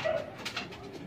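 Pigeons at night giving a soft, low coo right at the start, followed by faint rustling and fluttering; fairly close and quiet, with no talking.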